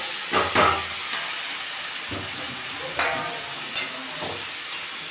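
Mixed vegetables with brahmi greens frying in a pan, a continuous hiss of sizzling oil with occasional stirring scrapes and a few sharper clinks, close, no talking.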